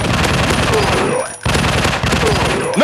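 Sustained rapid automatic gunfire in the zombie shooter game Zombie Fire Strike, set in an industrial war level: loud and close, with a brief break partway through before the firing resumes, ending on a rising electronic tone.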